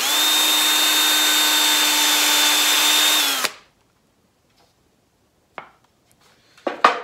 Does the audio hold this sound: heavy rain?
no